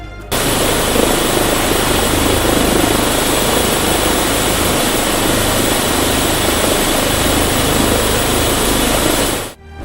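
A running helicopter beside an airport, a loud, close, unbroken roar of engine and rotor noise that starts suddenly, holds steady for several seconds, then drops away at the end.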